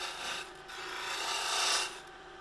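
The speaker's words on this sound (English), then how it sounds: "I'm just doing the rough shape with the spindle roughing gouge." Spindle roughing gouge roughing the shape of a historic blackwood twig on a wood lathe, a continuous close-up rasping, scraping cut that swells and fades slightly over a couple of seconds.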